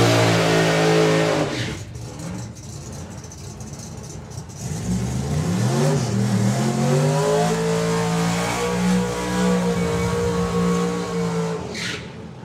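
A turbocharged drag racing car accelerates hard at a drag strip event, its engine note loud and climbing through rising harmonics, dipping briefly, then building again into a sustained high-revving roar with no talk over it.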